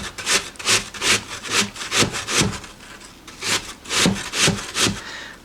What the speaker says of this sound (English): I'm just going to go on the larger side of the box grater. I'm going to go around and around with the apple until I'm only left with the core.